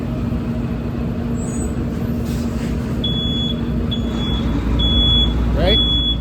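A truck rumbles past on the road with a steady low drone and a high, whining tone, and repeated short beeping pulses sound near the end as it draws away.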